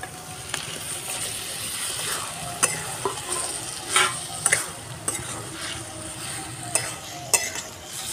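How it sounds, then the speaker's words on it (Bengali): Fried potato and pointed gourd pieces being sautéed with cooked-down spice masala in oil in a pan: continuous sizzling, broken by repeated scraping and clattering strokes of a spatula stirring the vegetables. "ভালো করে কষাতে হবে আলু পটলটা মশলার সঙ্গে"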